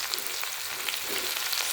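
Onions sizzle in a hot pan with a bright, even hiss and faint crackles, close and continuous through the short stretch.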